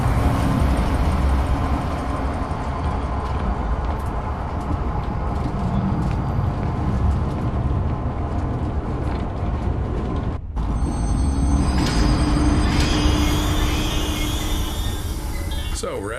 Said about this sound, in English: select the giraffe enclosure on the control panel and start the train